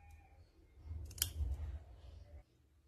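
Scissors snip through felt fabric while cutting out a lavender flower piece, a short sharp click followed by a soft, close rustle of cloth before the sound fades.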